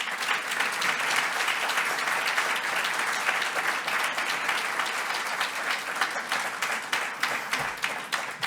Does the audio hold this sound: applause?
yes